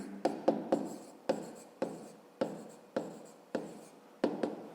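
Handwritten maths equation worked out with a pen or pencil on paper for a fifth-grade exercise, heard as a series of short scratchy strokes in quick bursts, close and fairly quiet, with no talking.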